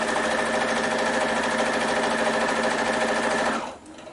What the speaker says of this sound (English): I will sew with the quite narrow seam, so I'm going with 1/8